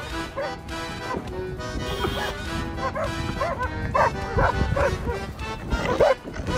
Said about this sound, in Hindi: कुत्ते पीछे लग गए।